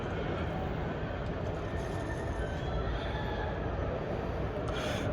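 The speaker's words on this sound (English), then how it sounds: "You can see the light rail now in front of you." A Jerusalem light rail train passes close by with a steady broadband rumble of wheels on track throughout, loud and even.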